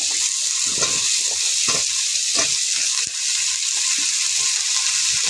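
Sliced potatoes sizzle steadily in hot oil in a pan alongside chopped onion, a constant close frying hiss with occasional stirring clatters, no voices.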